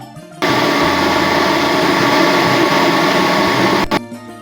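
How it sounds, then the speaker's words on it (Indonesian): Electric blender grinding herbal ingredients for a duck probiotic mix, a loud, steady, close motor whir that starts abruptly, runs continuously for several seconds, then cuts off. "Bahan-bahan tadi kita satukan, kita blender menjadi satu."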